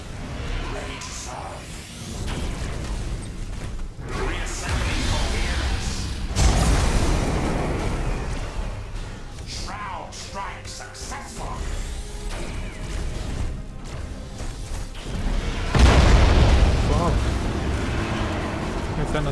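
Ship weapons and explosions in the space battle game Battlefleet Gothic: Armada 2 make a continuous rumbling, booming wash with heavier swells, while someone talks over much of it.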